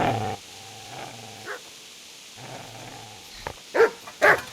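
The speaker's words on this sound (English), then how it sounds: "Get away, you mutt!" A dog growls and barks in Kingdom Come: Deliverance, a low rumbling growl followed by a few sharp, loud barks near the end, with no talking.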